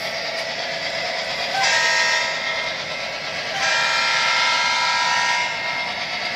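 Train horn sounding a grade crossing signal: a steady, loud, chord-like blare held for the whole stretch, swelling into two stronger blasts with a slight dip between them.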